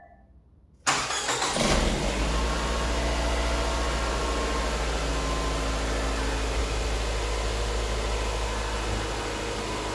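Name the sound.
car engine starting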